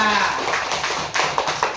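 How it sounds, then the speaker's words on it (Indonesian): A short burst of clapping rises from a classroom group honoring group 2 during a student activity session. The claps are close and overlapping and fill under two seconds. "tepuk tangan untuk kelompok 2"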